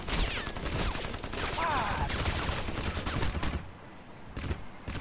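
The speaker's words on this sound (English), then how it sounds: "Let's see if we can shoot this guy last time." Gunfire from shooting an enemy in the video game Crysis comes as loud, rapid automatic bursts with echoing cracks, fired repeatedly before a short lull and a final few shots.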